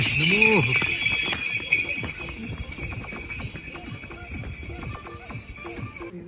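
A horse's hooves clip-clop at a steady walking pace on the Everest Base Camp trek, with a short whinny at the start and a voice over the steps.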